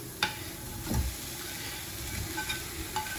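Fried banana being stirred into batter, with soft sizzling and hissing under scraping and stirring, a few short knocks of the spoon against the bowl standing out.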